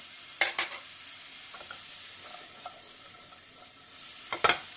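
Mushrooms and onion sauté in a lightly oiled pan for creamy pasta, with a soft continuous sizzle broken by a few sharp stirring scrapes and clinks near the start and end.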